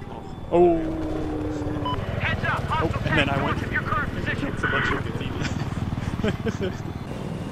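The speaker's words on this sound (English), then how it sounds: "Helicopter, the attack is spinning up." An attack helicopter spins up in Battlefield 4, its rising turbine whine and rapid rotor chop running steadily throughout, with a player talking over it.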